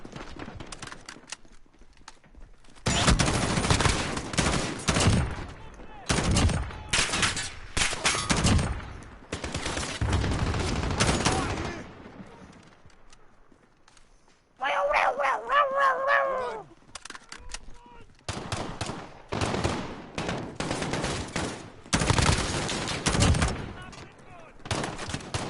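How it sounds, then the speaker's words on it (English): Gunfire in Call of Duty: Modern Warfare on PS4, loud clustered bursts of rapid shots separated by short pauses, with a stretch of other game noise in the middle. "Stop shooting me."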